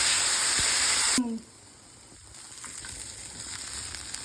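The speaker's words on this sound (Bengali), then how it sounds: "দিয়ে দেবো ডালিয়াটা, ভালো করে নেড়ে চেড়ে নেব।" Dalia (cracked wheat) with cashews and raisins is stirred in a hot pan: a loud, close sizzle cuts off abruptly after about a second, then quieter frying and soft stirring scrapes continue.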